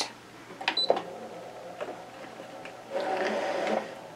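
A Brother ScanNCut DX cutting machine loading a cutting mat: a few clicks and clacks followed by a steady motorized whirring feed lasting about a second, close by and moderately loud, no talking.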